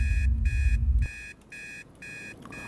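A radio alarm clock rings in the ghost-hunting video game Obsideo, with a steady train of electronic beeps in evenly spaced bursts, loud and close, a low rumble fading away early and no talk.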